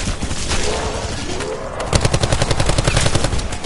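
Rapid automatic assault-rifle bursts in a video game, loud and close, with a steady rattling stream of shots after a brief stretch of lighter battle noise.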